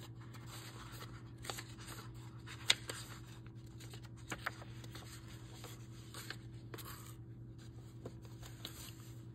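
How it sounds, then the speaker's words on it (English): A fountain pen writes on a Rhodia dot pad with a soft, steady scratch of strokes and small ticks as the nib lifts and touches down. It is quiet and close, over a low constant hum, with no talking. "let's do a writing sample on this, see the difference"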